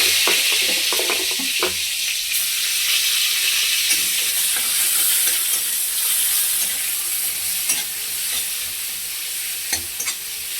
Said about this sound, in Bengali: একটা তেজপাতা, দিয়ে দেবো গ্রেট করে রাখা পেঁয়াজ